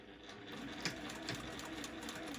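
A Juki sewing machine stitching a fabric face mask close to the edge, a quiet steady whirring run of the needle heard up close, with faint handling clicks of the cloth.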